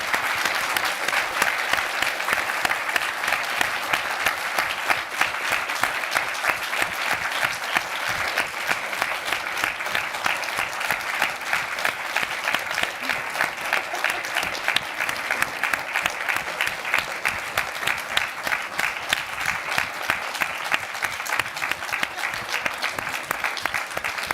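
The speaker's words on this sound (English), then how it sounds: "if we could just have a big hand of applause for Rasheed Araeen." Sustained audience applause at the close of a live public arts conversation event at Tate, dense and even clapping from a seated crowd lasting over twenty seconds, with no one talking over it.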